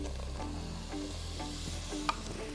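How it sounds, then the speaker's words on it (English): Steady, close sizzling of onions and kidney beans frying in a pan for minestrone soup, with a few small pops and crackles and no talking. "I'm not sure if you can see the sizzle, but you can kind of see the sizzle down here."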